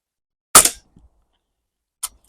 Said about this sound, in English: I'm going to take 5 more shots, and we're going to go for a group.